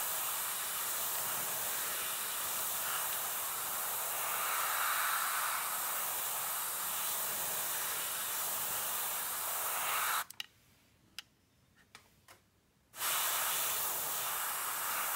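Tamiya flat black lacquer hisses from an airbrush onto the side of a model tank, a steady close spray that cuts off abruptly for a few seconds with short bursts before resuming.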